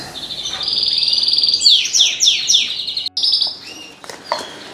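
Young birds settling into a weaning cage chirp and tweet in rapid, high, bright bursts, with a sustained trill followed by quick descending twittering calls, close and clear with no talking.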